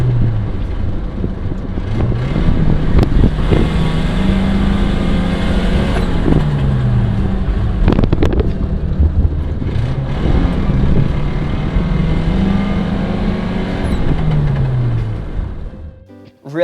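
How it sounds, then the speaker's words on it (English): Fiat X1/9 with a loud aftermarket exhaust driving along, engine note rising and falling with gear changes and sharp pops and bangs on lift-off, continuous throughout and close to the microphone. "just listen to this thing pop and bang as I drive"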